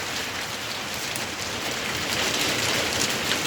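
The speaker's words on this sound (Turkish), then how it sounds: "Dolu yağıyor." Dense, steady pattering of hailstones striking surfaces nearby in Bodrum, a loud continuous clatter with no voices.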